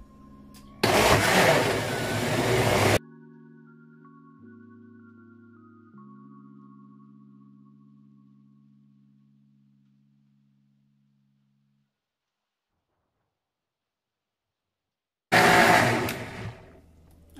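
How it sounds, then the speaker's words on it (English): A powerful kitchen blender blends warm sea moss gel in two loud bursts of whirring motor noise, separated by a long quiet stretch with low fading hums. "powerful blender here,"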